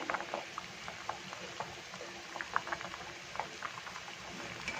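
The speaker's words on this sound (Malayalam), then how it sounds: "നല്ലപോലെ തിളച്ച് തുടങ്ങിയിട്ടുണ്ട്" Quiet, continuous bubbling of a liquid at a boil, small pops scattered irregularly over a soft steady hiss.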